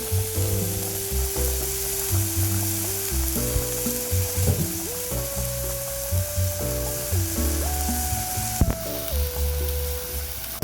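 Sofrito for Brazilian black beans fries in a pan, a continuous steady sizzle running throughout beneath louder background music, with a few faint stirring scrapes.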